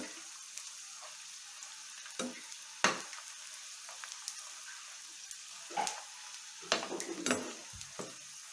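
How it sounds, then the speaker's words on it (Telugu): Low, continuous sizzling of salted dry fish frying in hot oil over a medium flame, broken by several sharp crackles and stirring scrapes, close by with no voices. "మీడియం మంట మీద వేయించుకోవాలి"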